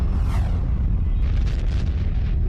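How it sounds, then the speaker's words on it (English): A massive star explodes in a deep, sustained rumbling boom, loud and continuous throughout with no pauses and no voices. "a massive star explodes, sending a lethal burst of energy rocketing toward our planet"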